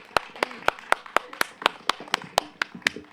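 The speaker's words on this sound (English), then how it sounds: "Let's give them a round of applause, folks." Applause from an audience for the presenters at a farming talk, heard as a dozen evenly spaced, sharp claps at a steady rhythm, fairly close and moderately loud with nothing else over them.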